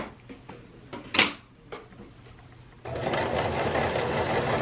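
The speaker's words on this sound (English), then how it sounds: "I'm going to top stitch all the way around the whole thing." A sewing machine top stitches around a fabric mask, starting after a few scattered clicks and rustles of handling, then running in a steady, close, continuous whir.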